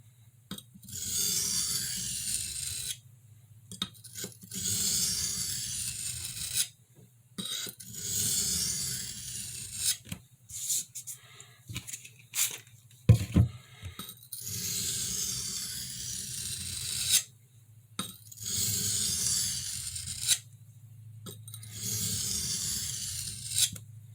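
A Schrade Woodsman knife of 1095 carbon steel is sharpened on a stone, giving repeated bursts of raspy scraping strokes separated by short pauses, close and fairly loud throughout with no talking.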